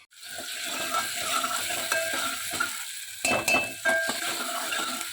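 Chopped onion fries in a pan, a constant close sizzle with a few stirring scrapes and light utensil taps, no voices.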